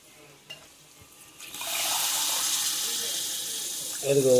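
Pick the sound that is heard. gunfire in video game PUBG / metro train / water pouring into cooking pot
water pouring into cooking pot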